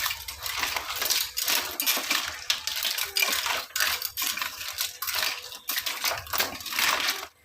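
Clams rattle into a pan of fried onion and tomato in bursts of clattering shells, with sizzling and metallic scraping, loud and close, without voices.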